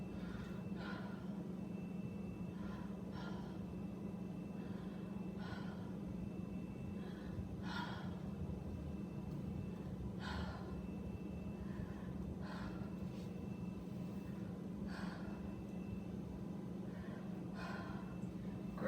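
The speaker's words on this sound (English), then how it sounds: "Just take a deep breath in just like before." Slow, deep breaths from a patient during a lung exam, about eight soft rhythmic inhalations and exhalations, faint and close over a steady low hum.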